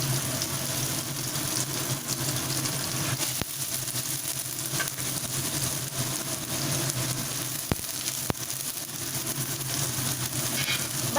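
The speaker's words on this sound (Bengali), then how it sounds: "পেঁয়াজটা ভাজা হতে হতেই সাথে আমি বিনস গাজর কড়াইশুঁটি কেটে রেখেছি সেটা দিয়ে দিচ্ছি" Onion frying in a pan with beans, carrots and peas added, a steady dense sizzle running throughout with a few sharp clicks, close and alone without talk.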